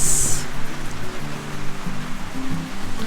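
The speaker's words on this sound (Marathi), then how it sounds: "काय पाऊस पडतो आहे" Steady rain pours down in a dense, continuous hiss, close and fairly loud, with no voices.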